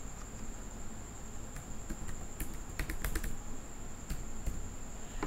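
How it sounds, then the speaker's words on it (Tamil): Scattered clicks of typing on a computer keyboard, entering text in video editing software, come as faint, irregular taps over a quiet steady hum. "டெலீட் பண்ணிவிட்டு உங்களுக்கு தேவையான டெக்ஸ்ட்டை வந்து டைப் பண்ணிக்கோங்க."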